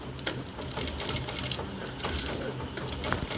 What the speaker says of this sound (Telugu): మనం మెషిన్ స్పీడ్ తక్కువ పెట్టుకొని కొంచెం వరకు కుట్టచ్చు